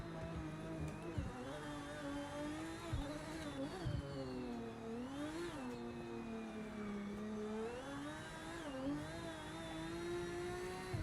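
A race car engine in the Project Motor Racing game leaving the pits, a continuous engine drone that rises and falls through gear changes and revs, with a few brief thumps, steady and fairly loud with no talk.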